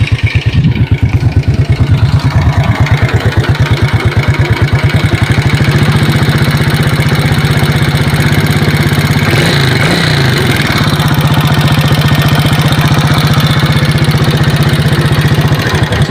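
Honda XRM 125 motorcycle engine idling nearby, a steady low mechanical chug with a persistent rapid ticking clatter from the engine, loud and continuous throughout with no talk.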